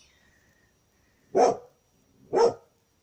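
Two loud, close barks from puppies in a garden, evenly spaced about a second apart, with quiet pauses between them; a brief spoken word comes just before.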